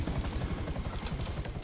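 A helicopter in GTA Online flies close by, its low, steady rotor thump pulsing continuously and fairly loud for the whole short stretch, with no talk over it.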